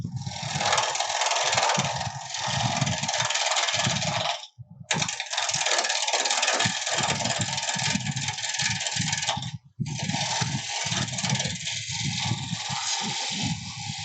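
A wood lathe turns a natural edge bowl under light, interrupted gouge cuts: a close, continuous rasping scrape broken by two brief pauses.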